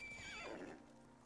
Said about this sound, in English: that's a big horse jump